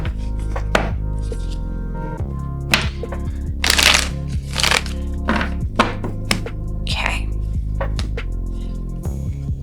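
A deck of tarot cards is given a quick shuffle, close-up riffling and soft slaps and taps of cards landing in irregular bursts, with a faint steady hum underneath.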